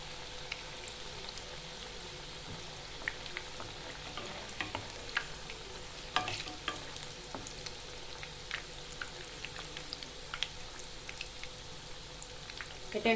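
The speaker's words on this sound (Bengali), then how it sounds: "এটা একটু লাল করে ভাজা হবে এক পিসটা" Chicken pakora pieces fry in hot oil with a soft, continuous crackling sizzle and scattered pops, close and fairly quiet, with no talking.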